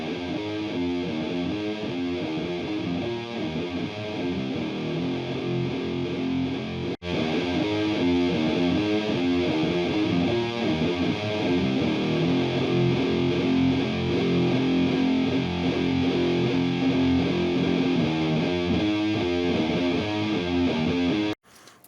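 Heavily distorted doom/sludge metal guitar mix, dense and loud, played once dry and then again after a brief cut with multi-band compression, thick droning riffs with no talking.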